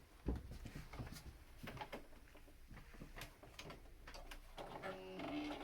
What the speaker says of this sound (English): And then you're going to sew a 1/4-inch seam right here.